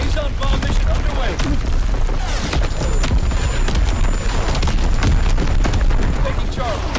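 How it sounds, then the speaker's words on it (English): Heavy bomb explosions and dense gunfire from an Azon bomb strike in the World War II shooter game Call of Duty WW2, loud and continuous battle noise over the whole stretch with a thin high whine and speech mixed in. "Coordinates confirmed. Firing on target. Nice. Azon bomb mission underway."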